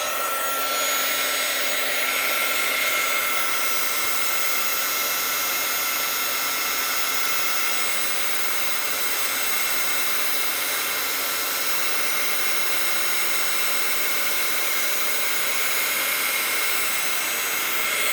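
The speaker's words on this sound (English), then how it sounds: "And then I'm just going to heat emboss this, heat set it." A heat embossing tool blows hot air steadily over a card, giving a loud, continuous whooshing roar that holds unchanged for the whole stretch.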